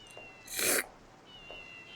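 A cartoon cat in WarioWare: Smooth Moves gives one loud, drawn-out meow in the middle of the moment, with faint game chirps before and after.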